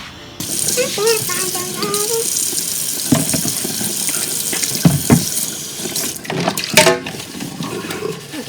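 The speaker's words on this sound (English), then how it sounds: "Now I'm about to start washing these dishes up though" Dishes being washed under a running tap in a kitchen sink, with steady flowing water, clattering and clinking of plates, and a brief squeaky tone near the start, close and fairly loud.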